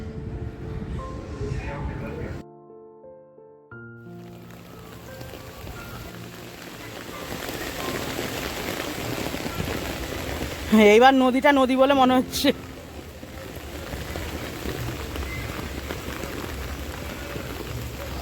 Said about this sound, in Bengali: আবার ঝমঝমিয়ে বৃষ্টি নামলো